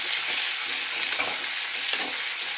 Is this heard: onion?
yes